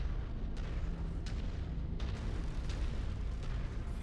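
Battlemech weapons firing in the MechWarrior 5: Mercenaries video game, a dense continuous roar of cannon and missile blasts with repeated sharp impacts and no pauses, loud and close throughout.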